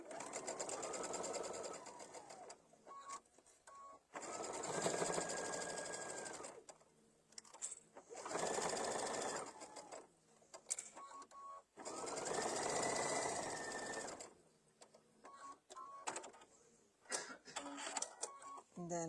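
A sewing machine stitches together table runner pieces in a quilting session, running in four long, steady bursts with short pauses between them, close and clear, while a voice talks briefly during the breaks.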